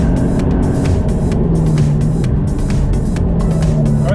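Subaru BRZ sports car driven hard on a race track, heard from the cabin as a steady, loud engine drone with shifting pitch and road roar, without breaks.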